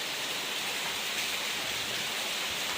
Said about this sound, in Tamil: நைட்லேருந்து சரியான மழை ரோட்டில் வெள்ளம் வந்துடுச்சு பாருங்கள்